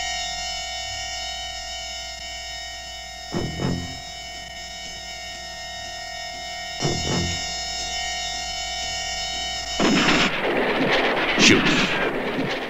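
Gunfire in a 1960s–80s grindhouse movie trailer, a few sharp booming shots spaced several seconds apart over a steady electronic tone, ending in a loud noisy burst.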